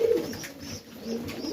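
Pigeons coo in a loft during feeding, a close, soft, rolling burble of overlapping low coos that runs steadily through the short clip, with no talking.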